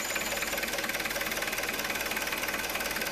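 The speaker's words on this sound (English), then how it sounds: "we are going to start the forklift" A Hyster forklift's diesel Isuzu engine idles steadily with a rapid, even knocking pulse, close and loud, with no talking.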